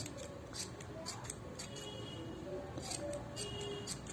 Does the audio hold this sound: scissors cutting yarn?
yes